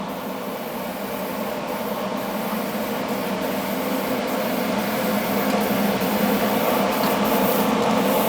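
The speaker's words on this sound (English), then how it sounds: "The noise you can hear is the extractor fan running that I use on the plasma table," A workshop extractor fan used with a plasma table roars in a constant, loud broadband whoosh, with faint intermittent ticks over the top.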